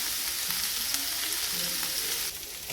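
Salted onions fry in a pan for a calzone filling, a loud continuous sizzle close up with soft scraping as they are stirred, and the hiss dipping slightly near the end; no talk.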